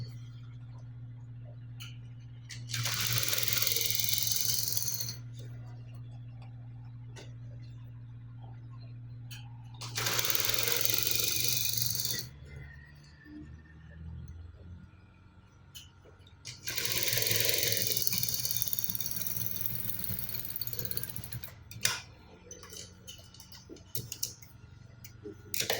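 A sewing machine runs a straight stitch along trouser fabric in three separate bursts of a few seconds each, separated by quiet gaps, with faint ticking and clicking in between.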